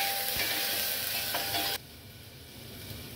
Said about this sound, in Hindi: तो मैं इसको प्रेशर कुकर में डाल रही हूँ, टमाटर के साथ इसको अच्छे से हम फ्राई कर लेंगे।